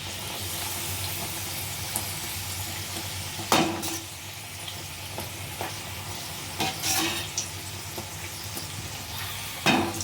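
Chana dal puris deep-frying in hot oil give a steady close sizzle, broken by a few louder scraping stirs from a utensil in the pan.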